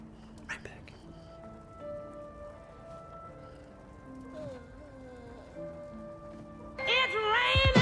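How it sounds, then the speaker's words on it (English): A soft, steady patter of rain falls in the video game Hollow Knight Silksong beneath sustained musical tones, and a voice speaks briefly near the end. "It's raining."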